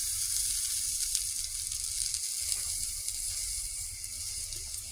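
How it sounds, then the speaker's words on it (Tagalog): Hot oil poured over chopped spring onions sizzles in a steady, bright hiss that holds throughout, close up and with no talking. "Lagyan natin siya ng oil na mainit para maluto yung spring onion"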